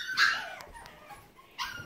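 Young puppies whimper and cry for their absent mother: high, thin whining yelps in two short bursts, close by, with soft rustling between them.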